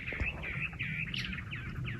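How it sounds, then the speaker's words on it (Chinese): Small wild birds chirping on a hillside where wild yams are being dug on a cold day: a quick run of bright, repeated tweets, fairly close and clear over a quiet background. "小鸟都在叫"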